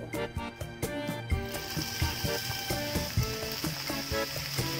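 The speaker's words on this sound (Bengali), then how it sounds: "এবার আমি এর উপরে অল্প অল্প করে দুধ ঢেলে দেব।" Milk is poured a little at a time onto hot bread in a pan over high gas, raising a close, crackling sizzle with stirring clicks, while music plays underneath.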